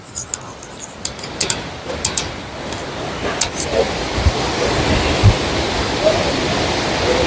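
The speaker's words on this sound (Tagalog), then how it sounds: "Maybe 100 feet tall this waterfalls over here." A very tall waterfall in Croatia gives off a steady, broad rush of falling water. Wind buffets the microphone, and a few short clicks and knocks sit over the roar.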